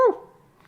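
A short dog-like yelp or whimper, one brief loud cry that quickly fades into quiet; it may be a person imitating a talking dog.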